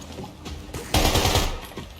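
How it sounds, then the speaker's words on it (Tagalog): Rapid automatic gunfire from a shooter video game rattles in a dense, continuous burst, growing louder midway, with no talking over it. "Naririnig mo yung baril ko."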